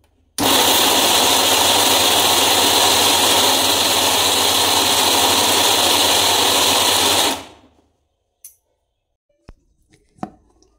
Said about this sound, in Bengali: তো দেখো আমি মিক্সি থেকে গুঁড়ো করে নিই।